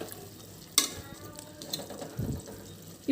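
Chickpeas (chana) being stirred into biryani in a pot, with a soft scraping and sizzling stir and one sharp clank of the spoon against the pot, no talking.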